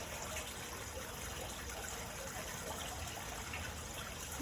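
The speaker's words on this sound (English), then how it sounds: "just listen to this beautiful sound. These 2 water features." A soft, continuous trickle of running water, like a small fountain splashing steadily, quiet and unbroken with no other sounds.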